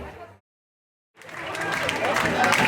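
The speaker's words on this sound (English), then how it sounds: "That's how you get applause before you say a word" Audience applause bursts out at a speech event after a brief silence, building into sustained, dense clapping from a crowd that fills the room.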